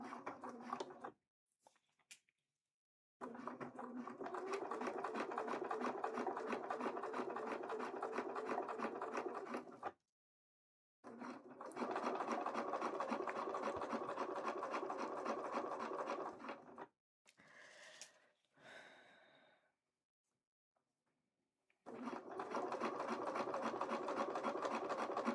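A sewing machine stitches cosplay material in three long, fast runs of rapid mechanical chatter, close and loud, separated by pauses, with a brief shuffle of handling in between.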